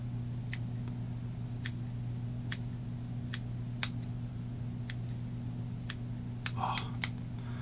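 Small scissors snip at fly-tying material on an Atlantic salmon bomber fly, a series of sharp, close, isolated clicks spaced about a second apart over a steady low electrical hum.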